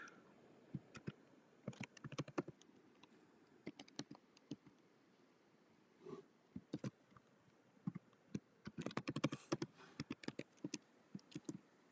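Someone enters a password on a computer keyboard, with irregular bursts of light key taps and clicks, some quick runs and some single presses, close and fairly soft in an otherwise quiet room with no talking.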